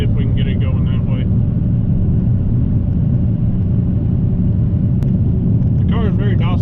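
A Dodge Hellcat fitted with a Kenne Bell supercharger cruises on the road with a steady, loud low rumble and road roar, while someone talks over it at the start and again near the end.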